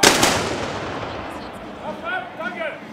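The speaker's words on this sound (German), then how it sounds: "Die Schützen böllern übrigens mit Vorderladegewehren mit Böllerbeschuss" Black-powder muzzle-loading rifles fired as a salute: a loud sharp blast at the start followed by a long rolling, crackling decay and echo in the open air, with faint voices and background sounds.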